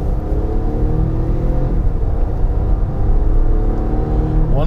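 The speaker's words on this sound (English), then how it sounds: "So I don't know if you can hear that raspy engine note" A Hyundai Venue's raspy engine note drones steadily from inside the moving car, a close, loud, continuous growl with a slight rise in pitch toward the end.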